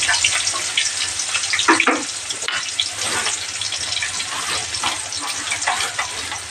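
Onions and green chillies sizzle in hot oil in a pan for a Telugu okra tamarind stew with eggs, a steady crackling hiss with a few stirring scrapes, fairly close and without talk.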